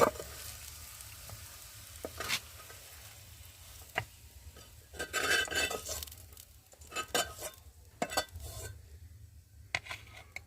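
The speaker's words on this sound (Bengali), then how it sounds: "পেঁয়াজটাকে একটু ভেজে নিই চলো" Onion frying on a tawa gives a steady close sizzle, broken by a few sharp clinks and scrapes of a spatula against the pan.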